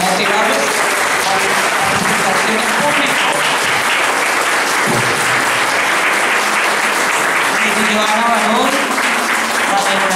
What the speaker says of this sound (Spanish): ya podemos darles un fuerte aplauso para motivarlos